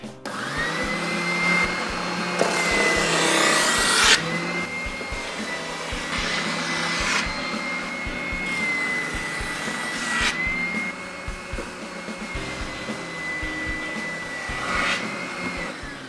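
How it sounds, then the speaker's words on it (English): A spindle sander rough-sands a handmade skateboard in a garage, giving a steady high motor whine with gritty bursts of louder grinding as the board is pressed against it, close and continuous. "that's the first sand, the first rough sand"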